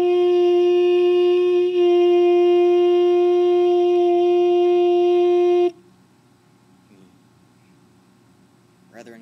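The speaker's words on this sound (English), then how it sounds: "And whole thing looks like the saxophone ocarina hybrid." Clay saxophone-ocarina hybrid instrument without fingering holes, played as a single loud steady reedy tone held for about six seconds, followed by quiet with faint breaths and small noises.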